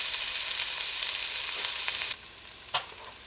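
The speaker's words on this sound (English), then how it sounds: "Bring them to a nice sizzle." Beef brisket sizzles in a pan with steady, bright crackling for about two seconds, then the frying drops off sharply to a quieter hiss, broken by one short pop near the end.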